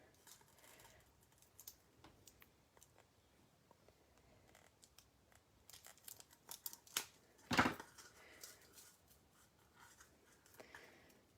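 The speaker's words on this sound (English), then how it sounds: "Let's see if I can snip that." Scissors snip through a gold cord in a quiet room, with faint crinkling and handling sounds leading up to one distinct crisp cut.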